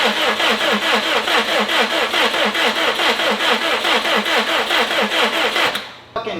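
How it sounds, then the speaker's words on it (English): A Subaru WRX STI engine cranks over on its starter with a weak battery, a steady rapid rhythmic churning held loud and close for nearly six seconds before it cuts off abruptly. "I'm gonna crank it till I see pressure on the oil pressure sensor."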